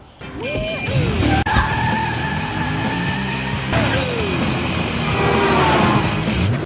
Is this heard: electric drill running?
no